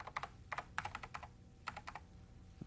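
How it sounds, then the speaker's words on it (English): Quick bursts of keystrokes on a computer keyboard, heard close and fairly soft, come in short irregular clusters separated by brief pauses, with no voices. "by typing in Rick and pressing the Find button"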